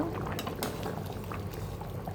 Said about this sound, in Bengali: এখন আমি ঝোলের পানিটা দিয়ে দিব